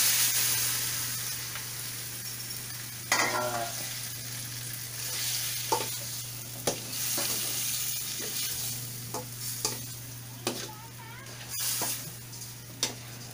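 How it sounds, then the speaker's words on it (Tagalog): A salmon head is dropped into tomatoes frying in a pot for sinigang. A soft sizzle runs under intermittent stirring clunks and utensil taps against the pot, fairly quiet with a steady low hum. "Kaya ating ilalagay ngayon itong ulo ng ating salmon."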